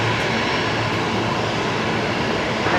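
A Jetstar Airbus A321neo taxis at Brisbane Airport, its jet engines giving a steady, broad roar that holds at an even level throughout without any voices.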